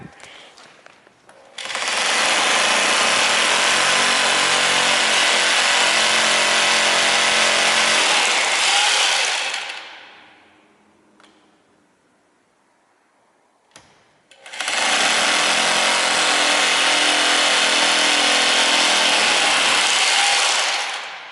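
A power tool setting clamp anchors into a wall in a high voltage lab, two long loud bursts of steady whirring a few seconds apart, close up with a short quiet gap between them, no talking.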